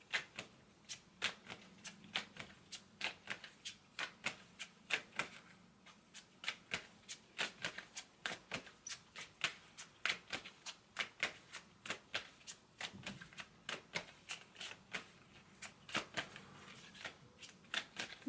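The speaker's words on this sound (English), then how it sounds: "I'm going to shuffle this deck" A deck of pick-a-card reading cards is shuffled over and over, with rapid riffling bursts and soft snaps repeating steadily, close and clear.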